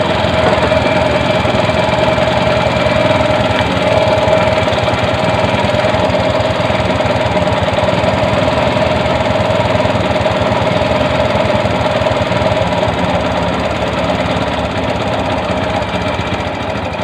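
A Bajaj CT 100 motorcycle engine with a worn timing chain guide runs loud and steady, giving a continuous rapid knocking rattle over its idle drone from start to finish, with no talking.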